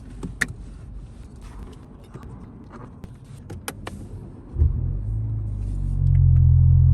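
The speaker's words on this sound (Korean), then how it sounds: "벌써 시동 걸 때부터 열리는 소리가 확 느껴지시죠? 부앙 하는 음이" A BMW 530i with a valved exhaust opened by a control module fires up after some quiet key and cabin clicks; the engine catches with a sudden deep rumble, then settles into a loud, steady low idle close by.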